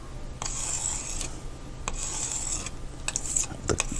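Scraping of wet paint off a canvas during a grayscale painting, several short raspy strokes repeating in bursts, close and clear, with no talking.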